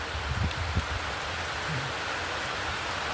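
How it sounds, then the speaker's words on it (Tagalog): Heavy rain falls steadily, a dense, even hiss of drops hitting the surface around a moored boat. A few faint low thumps come early, and no one speaks. "Isang oras na po itong malakas na ulan."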